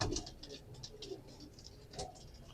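A pigeon coos softly and intermittently at close range, with quiet rustling and faint patter between the calls and no talking.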